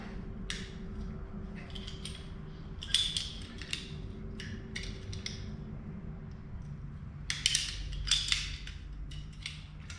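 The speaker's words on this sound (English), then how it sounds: "conduit cutters because I'm a sparky, but usually it works well for hose when they're sharp" Sharp conduit cutters bite through a rubber fuel hose during an aftermarket fuel pump install on a drift car, making scattered crisp clicks and crunches in two clusters over a low steady workshop hum.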